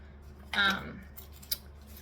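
Scissors make a short snip into a fabric seam allowance during sewing, one quick crisp cut followed by a faint click, close and fairly quiet.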